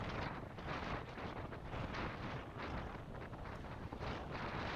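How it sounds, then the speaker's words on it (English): Crosswind roaring across a cyclist's microphone during a Category 4/5 open bicycle race, a loud, continuous buffeting rush with no pauses. "just getting hit in the face with a bunch of wind, crosswind"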